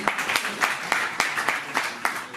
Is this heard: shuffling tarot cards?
no